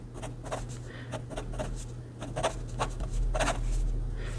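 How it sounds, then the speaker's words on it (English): A Wing Sung 698 fountain pen writes on paper in steady, close scratching strokes, with short bursts of nib friction and brief pauses between words, over a constant low background hum. "I'm just going to write Yosemite again."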